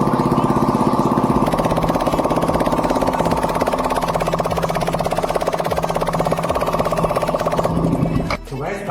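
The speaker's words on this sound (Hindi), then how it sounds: "आपको विदाउट एग्जॉस्ट का साउंड चेकआउट कराते हैं, एक बार दिखाते हैं कि किस तरीके का" Yamaha R15 V4 motorcycle engine running with the exhaust removed, a loud, steady buzzing drone close by that holds a constant idle for about eight seconds before dipping briefly near the end.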